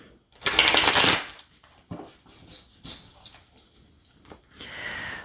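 Light Seers Tarot cards shuffled by hand, with a loud burst of riffling followed by several softer, quicker card flicks and slides close by. No one talks.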